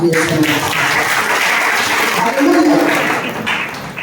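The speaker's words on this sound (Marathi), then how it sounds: "टाळ्या वाजवा." A church congregation claps together in sustained, dense applause, loud and close throughout, with some voices mixed in beneath the clapping.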